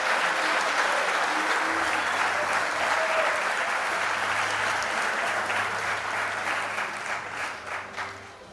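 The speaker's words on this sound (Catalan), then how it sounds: "Un aplaudiment per ell que pugui venir cap aquí." Audience applause at a sports awards night, a steady dense clapping from a large crowd that holds throughout and tapers off at the end, with no clear speech over it.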